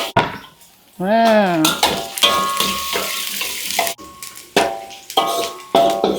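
Garlic and shallots frying in oil for a fermented cassava leaf dish: a loud close sizzle bursts in and fades in waves, with utensil clinks and stirring, while a voice speaks over it at times.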